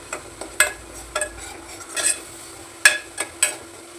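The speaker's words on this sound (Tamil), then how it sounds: "எண்ணெயில் நல்லா வெங்காயம் வச்சு பெரிய வெங்காயம் நல்லா ஃப்ரை ஆகுது" Large onions frying in oil over a high flame, several short scraping stirs and spoon taps standing out over a faint background sizzle.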